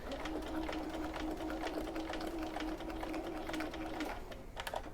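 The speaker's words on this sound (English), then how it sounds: "So stitch over it and then reverse back." A sewing machine stitches over a pocket seam on a garment with gusseted curves, a fast steady mechanical chatter that pauses briefly near the end before a few more stitches as it reverses, close and alone.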